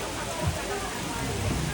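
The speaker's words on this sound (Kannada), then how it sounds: "ಹೆಂಗ್ ಮಳೆ ಬರ್ತಾ ಇದೆ" Rain falling steadily during a trek in Germany, a dense even hiss of drops all around, with voices faintly present underneath.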